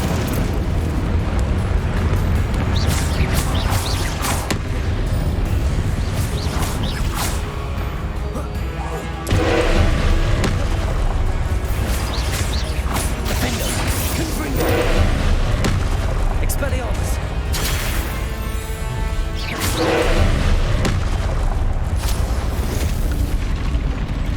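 Loud spell explosions from the Hogwarts Legacy game on PC, repeated booms and bursts through dense game noise with music, sustained throughout with several sharp impacts.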